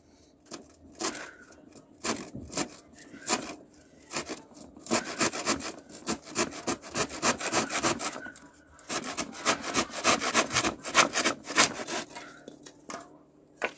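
Hand saw cutting through wooden paneling boards for a small cabin, a steady run of rough back-and-forth rasping strokes, close and fairly loud, with brief pauses between bursts.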